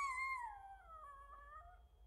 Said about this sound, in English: Dog's got a bad voice